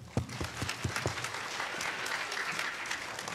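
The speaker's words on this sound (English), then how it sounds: "Let's give a nice round of applause to our Kian." An audience at a school spelling bee claps, starting with a few distinct claps and swelling into steady applause from a moderate-sized crowd indoors.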